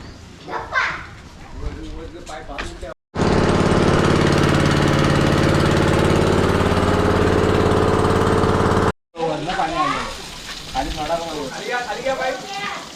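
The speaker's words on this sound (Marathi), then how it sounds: "इकडे पाणीचा टँकर आला बघा." A water tanker truck's engine runs steadily and loudly through the middle of the scene while water is delivered to a construction site, with children and adults talking before and after it.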